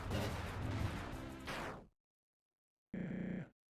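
Shooting in the video game Undertale Yellow: a loud burst of rapid gunfire, a short gap of silence, then one more sharp shot.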